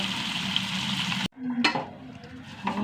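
Sardines fry in a pan with a loud, steady sizzle that cuts off abruptly, then softer hissing and a few clinks of a utensil.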